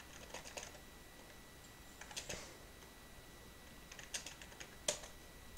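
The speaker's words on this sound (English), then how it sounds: "I'm typing you his runes and masteries." Soft keys clatter on a computer keyboard in scattered quick bursts, faint and close, with pauses between clusters of keystrokes.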